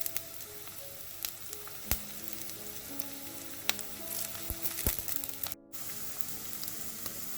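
Chopped shallots and curry leaves sizzling in hot oil, a continuous close fizzing hiss with scattered spits and pops, a few sharp utensil clicks against the pan and a brief dropout near the end, no voices.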